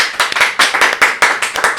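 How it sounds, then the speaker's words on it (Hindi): An audience at a talk show claps loudly and continuously, a dense, fast patter of many hands close by with no voices over it. "तालियां।"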